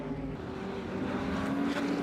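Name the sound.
Ferrari short wheelbase race car passing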